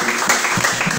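A church congregation at a worship service applauding, a dense, steady burst of clapping from many hands filling the whole second.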